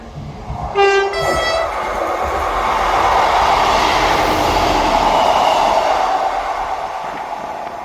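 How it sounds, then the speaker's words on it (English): A ScotRail passenger service from Edinburgh Waverley to Perth passes through Dalmeny station. A short horn blast comes first, then a loud, steady rumble and clatter of the train rolling by. "Passing through now is the 1457 ScotRail service from Edinburgh Waverley to Perth"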